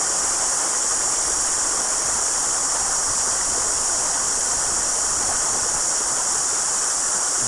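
Shallow stream water flows steadily at a gold prospecting site near Canvastown, New Zealand, with the water running low; a loud, even, close rushing babble continues without pause.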